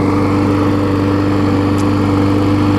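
A Craftsman lawn mower engine, salvaged from a dumpster, runs at a steady idle, loud and close with an even low throb and no pauses.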